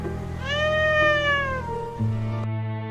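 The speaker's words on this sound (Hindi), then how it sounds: "सड़क के किनारे एक छोटा सा बिल्ली का बच्चा बैठा था।" A small kitten at a roadside meows in one long, clear, rising-and-falling cry, close and alone, followed by a steady low hum.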